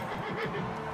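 A horse neighs in the medieval combat game Mount & Blade: Warband, a short whinny over a low, steady background rumble.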